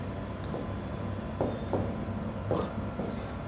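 Chalk or a marker scratches across a board in a classroom, short separate strokes in quick bursts, close and clear against a quiet room.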